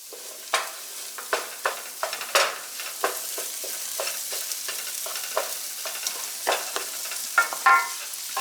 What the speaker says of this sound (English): We'll throw in the hard stems of the broccoli.